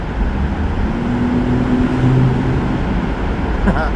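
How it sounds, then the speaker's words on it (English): A steady, dense road roar fills the space, with a droning hum from an Australian Ford car moving through an enclosed tunnel. "What does Betty in a tunnel sound like these days?"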